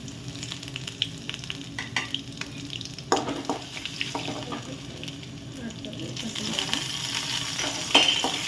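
Cumin seeds and ginger fry in hot oil for rice rava upma, a soft crackling sizzle with a few clatters of a spoon against the pan, rising toward the end; quiet background noise and faint water sounds are present.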